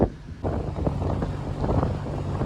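Strong wind buffets the microphone in rough gusts on a ferry deck crossing from Ireland to Wales, over a low ship engine rumble, with a loud whoosh at the start.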